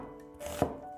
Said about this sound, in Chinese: 放到案板上切成均匀的细丝